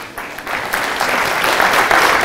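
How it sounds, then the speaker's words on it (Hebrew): An audience at a religious lecture breaks into applause, a dense, sustained clapping that swells slightly louder toward the end. "מגיע למחיאות כפיים"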